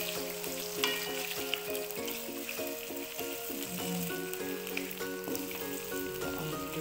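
Goat liver frying with aromatics in a pan, a constant close sizzle and crackle with occasional stirring scrapes, alone with no talk over a faint tonal hum in the background.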